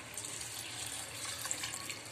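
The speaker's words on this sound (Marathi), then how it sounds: "आता मी यात पाणी टाकून भिजत ठेवणार आहे रात्रभर।" Water pours steadily from a tap over washed rice set to soak overnight, a continuous close, moderate rushing stream with no voices.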